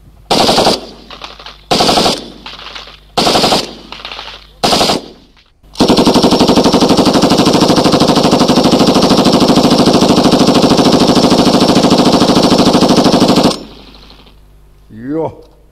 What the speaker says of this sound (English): This is an authentic recording of a Rhodesian MAG being fired at the RAR depot at Bala Bala in 1977